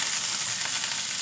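Meatballs frying in a pan for a taro and green pea stew, a steady close crackling sizzle with no pauses.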